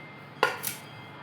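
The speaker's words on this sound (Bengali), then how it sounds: "আর এই যে লাউর খোসা কাটতেছি আমি" A knife shaves the peel off a bottle gourd in a home kitchen, two brief scraping cuts in quick succession, close and moderately loud against a quiet background with no talk.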